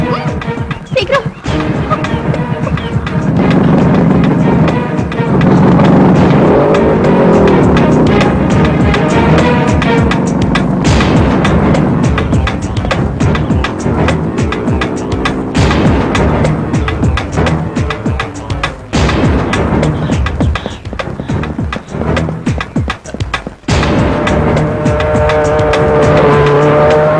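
A car in a Tamil movie scene swings around and speeds off with loud engine revving and screeching tires, while voices shout over the rushing, swelling noise.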